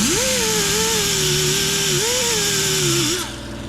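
An old Holley carburetor being sanded with a power tool: a loud, steady, high-pitched motor whine that dips and rises in pitch as it bears on the metal, then cuts off just before the end.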